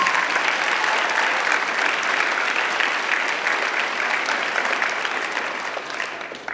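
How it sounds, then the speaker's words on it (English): A middle school concert audience gives sustained applause, dense and steady across the whole stretch before thinning slightly at the end, with no speech over it. "a round of applause"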